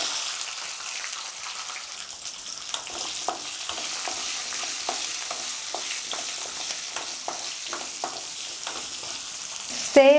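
About twenty peeled small onions frying in a hot pan with chilli powder, stirred: a steady crackling sizzle with a run of soft scraping stirs, near and moderately quiet, and no voices.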